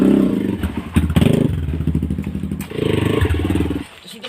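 A Kawasaki motorcycle engine runs loud and close, rumbling unevenly with rough bursts of revving and some clattering, easing off near the end.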